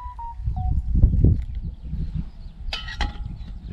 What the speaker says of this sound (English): Listening to the birds this morning.